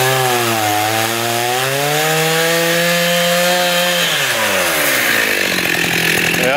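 Close, loud chainsaw drones steadily through a hollow tree trunk that holds a bee colony, cutting at a knot. The engine pitch sags under load and then rises again as the chain bites.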